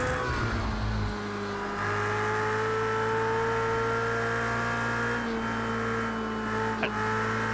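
Racing car engine in Project CARS 2, a steady loud in-car drone holding a high pitch with brief shifts in revs, a long continuous run with faint talk underneath.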